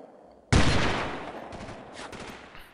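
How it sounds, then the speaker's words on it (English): A .50 cal machine gun firing through a wall in the Delta Force 2 video game: one sudden loud blast followed by a long decaying rumble and a few fainter follow-up reports, no talk. "I've got a 50 cal, so it makes sense for me to be shooting through the wall"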